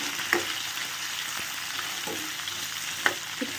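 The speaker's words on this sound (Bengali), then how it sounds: "তো আমি এর মধ্যে এবার দিয়ে দেবো কেটে রাখা আমড়াগুলো" Chopped hog plums sizzle in hot tempered oil over a low flame, a steady crackling hiss with a few brisk clicks of stirring scattered through.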